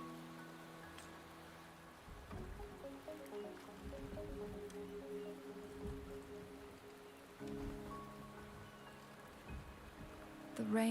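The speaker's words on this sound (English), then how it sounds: "The rain is subsiding, and the sky will soon clear." Steady rain falling in a video game, a continuous soft patter with occasional heavier drips and splashes, mid-level and filling the whole stretch with no talking.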